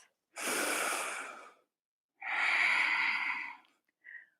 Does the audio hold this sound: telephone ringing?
no